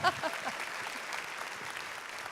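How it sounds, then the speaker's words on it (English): An audience at the Parker County Health Foundation's 2017 Pink Luncheon in Texas claps for a morning TV host, producing a steady, even patter of applause that sounds fairly distant and soft throughout. "Yeah, you can clap for her again."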